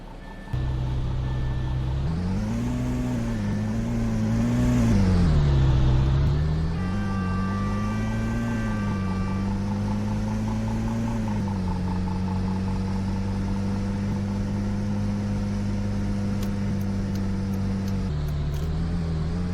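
A car engine drones steadily from inside the vehicle while driving, its tone climbing and falling as revs build around the middle and then settle into an even cruise. A brief change in pitch comes near the end.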